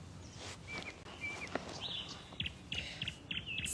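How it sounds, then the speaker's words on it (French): Small birds chirp and tweet outdoors in short, repeated bursts, moderately near, over a soft background rustle with occasional light footfalls. "j'espère que vous entendez les petits oiseaux également qui nous accompagnent"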